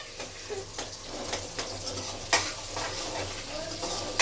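Cumin and chopped onion sizzle in hot oil while a spoon stirs them around the pan, steady frying hiss broken by periodic scraping and clinking strokes, close and alone with no voices.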